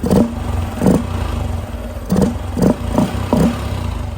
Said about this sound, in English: Let's give her a little rev, see what she sounds like.